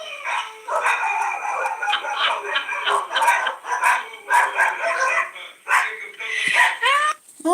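Several dogs bark repeatedly in lively, overlapping bursts, with a rooster-like crow near the end; no one speaks.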